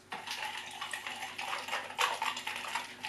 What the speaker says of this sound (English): one tablespoon of the cooking sake, three tablespoons of water, to one and a half teaspoons of the ginger. All right, give that a mix.